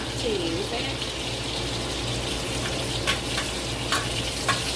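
Ribeye steak frying with butter and rosemary, a steady broadband sizzle and crackle lasting throughout, with a few brief sharper pops and faint background voices.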